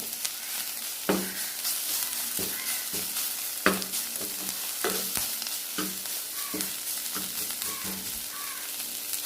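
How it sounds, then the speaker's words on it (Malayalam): Wilted greens for an egg thoran frying in a pan, stirred with repeated sharp scrapes and knocks of a spoon over a steady hissing sizzle, close and moderately loud, with no speech. "നമുക്കൊന്ന് തുറന്ന് ഇളക്കി കൊടുക്കാം നന്നായിട്ട് വാടി വന്നിട്ടുണ്ട്"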